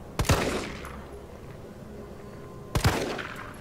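Two loud gunshots from a handgun in the game Resident Evil 3 Remake, spaced about two and a half seconds apart, each with a sharp crack and a decaying echo over quiet background ambience.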